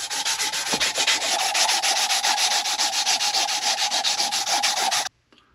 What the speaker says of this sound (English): then I'll take the same grit and just sand it this way